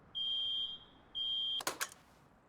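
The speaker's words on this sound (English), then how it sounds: "that's the audio alarm" An audio alarm in the game Rust beeps twice with long, piercing high-pitched tones, followed by a couple of sharp clicks as it shuts off.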